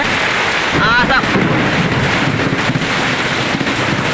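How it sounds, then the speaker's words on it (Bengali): A violent Kalbaishakhi thunderstorm in Kishoreganj district, Bangladesh, roars close and loud with heavy rain, gusting wind buffeting the microphone and rumbling thunder, continuous throughout with a brief voice underneath. "আজ আমাদের বাংলাদেশ কিশোরগঞ্জ জেলার উপর দিয়ে তাণ্ডব চলতেছে ঝড় বৃষ্টি"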